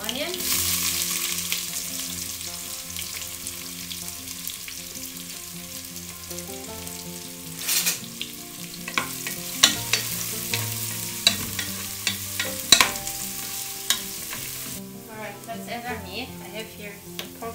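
Ginger, garlic and onion frying in a pan, a steady sizzle throughout with scattered clicks and scrapes of stirring, heard over soft background music with no talking.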